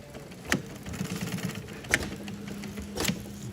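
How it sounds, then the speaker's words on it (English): Sewing machine running short back tacks on a nylon strap, a low motor hum broken by three sharp mechanical clunks at roughly even intervals, close and alone. "Sew around using back tacks. Back tacks are 3 to 4 sewing lines in one space to secure."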